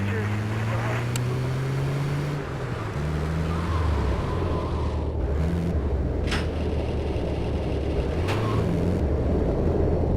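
A Yankee truck in GTA3 drives into the Portland import/export garage, its engine droning steadily with pitch shifts as it moves, under continuous music and game ambience.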